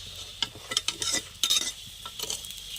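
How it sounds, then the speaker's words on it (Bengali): Aloo paratha frying in a pan, with soft sizzling broken by several scraping, stirring touches of a utensil against the pan, close and moderately quiet. "আলু পরোটাটা দিয়ে দিলাম পরোটা আমি ভালো করে ভেজে নিচ্ছি"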